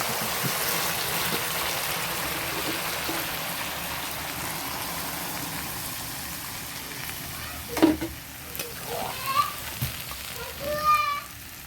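Meat curry frying in a pan gives a steady low sizzle that flares into louder bursts of hiss and bubbling near the end as a little water is poured in, with no talk.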